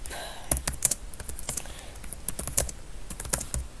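Rapid, uneven keystrokes on a computer keyboard, close and clear, with clustered clicks and short pauses and no voice over them.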